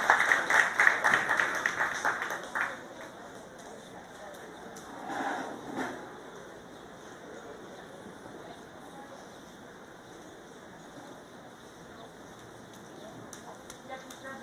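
Audience applause in a livestock show barn at a county fair, a burst of clapping from a crowd at the start that fades quickly into a quiet room hum, with a brief second swell partway through.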